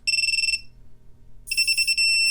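Two bursts of high electronic beeping from a FullSpeed Leader 3 SE RC car electronics setup, each a rapid pulsing tone about half a second long, separated by a pause, loud and close with no talking.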